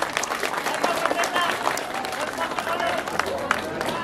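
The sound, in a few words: audience applause for the leaders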